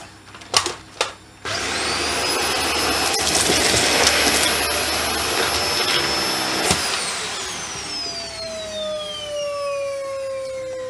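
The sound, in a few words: Dyson vacuum cleaner running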